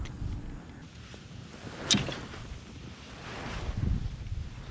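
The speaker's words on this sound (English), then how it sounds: "The wind's picking up" Wind buffets a microphone over a river during kayak fishing, a steady low rumble of gusts with a brief louder swell midway and rising again toward the end, no talking.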